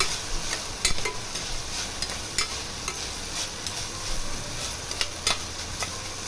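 Oil sizzling steadily in a pan as food is sautéed and stirred, with a few sharp scrapes and clinks of a spoon against the metal; fairly close, with no talking.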